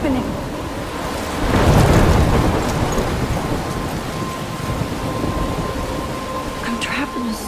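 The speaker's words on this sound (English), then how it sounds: "I'm trapped in a storm?" Thunderstorm with steady heavy rain in the video game Life is Strange, a loud rumble of thunder swelling early then fading into continuous rainfall, with faint tonal game sounds near the end.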